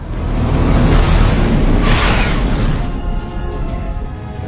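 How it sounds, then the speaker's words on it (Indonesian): An explosive bracelet detonates in an action film scene, a loud booming blast with a rushing, roaring tail that fades out over a few seconds. "Namun, gelang Malcolm sudah terlanjur meledak."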